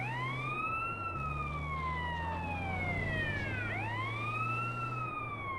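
Ambulance siren in the GTA San Andreas video game, a continuous wailing tone sweeping down and back up over steady engine hum, loud and close with no talk.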